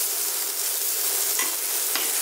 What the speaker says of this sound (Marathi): आता आपला पनीर छान फ्राय झालेला आहे